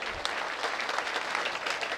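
An audience at a comedy show applauding, a continuous patter of many hands clapping together, fairly faint and steady throughout.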